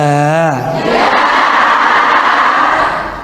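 A congregation at an Islamic religious talk applauds a woman who asked a question; a voice calls out briefly, then a loud, sustained roar of clapping and crowd noise fills the rest.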